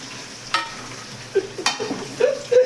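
Onions frying in a pan, a soft steady sizzle broken by a few louder stirring scrapes and clinks close by, with no talking.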